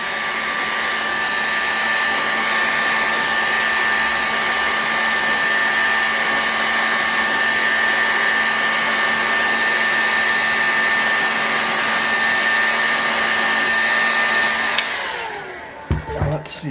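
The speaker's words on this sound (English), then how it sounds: "I am going to heat this front housing up" Heat gun blowing a steady, loud, even whoosh with a faint whine while heating a front bearing housing on a Raduga 10RU engine, running continuously before cutting off near the end with a few clanks.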